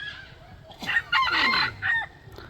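A rooster gives a single loud, close crow lasting about a second and a half, alone against a faint background hum.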